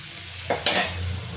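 A spoon stirs black sesame powder into cooked vegetables in a pan, giving a brief scraping swish and a soft sizzle, close and short.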